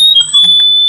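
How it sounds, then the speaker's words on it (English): An electronic timer alarm beeps as a steady, continuous high-pitched tone, loud and close, with faint voices murmuring underneath at an indoor gathering. "I think it is a timer"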